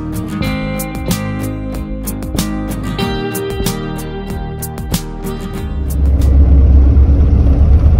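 Car driving along a road through a forest, a steady engine drone heard from inside with repeated ticking and knocking over bumps, and the rumble growing louder and heavier in the last couple of seconds.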